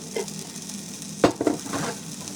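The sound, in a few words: garlic sizzling in butter in a pan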